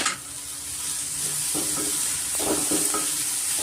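Finely chopped amaranth greens frying in a pan for an egg bhurji, giving a loud continuous hiss and sizzle with a few soft stirring scrapes partway through, close up and without speech.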